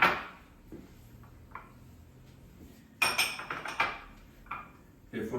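Chopped cauliflower and broccoli pieces are tipped into a bowl in a home kitchen, giving several close clattering knocks and scrapes of vegetables and utensil against the dish, spread out in bursts with quiet gaps between them.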